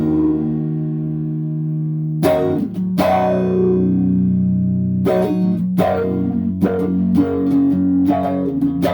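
Electro-Harmonix Micro Q-Tron auto-wah pedal on its HP setting, played with plucked notes that sweep and quack, a sustained tone with sharp attacks repeating every second or so, loud and close.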